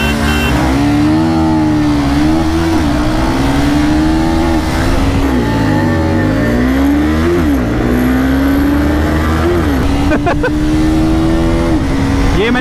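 A KTM Duke 250 and a Honda CBR 250R drag racing, with loud, sustained engine roar climbing through repeated gear shifts and wavering pitch close by, continuous throughout.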